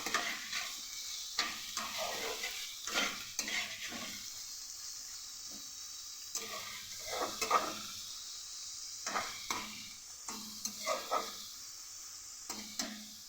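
Garlic stirred in a hot frying pan for an evening tiffin, with a steady soft sizzle and repeated scraping strokes of the spatula at an uneven rhythm, close and fairly quiet, no talking.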